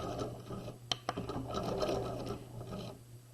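A sewing machine back stitching the end of a jacket sleeve seam, a fast steady mechanical whir with a couple of sharp clicks near the start, close and moderately quiet, no talking.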